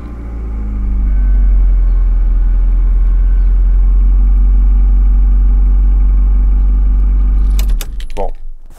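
A Honda Accord with a strange fault idles with a loud, steady low engine drone that starts and holds, then ends in clattering jangles and a brief burst of noise near the end.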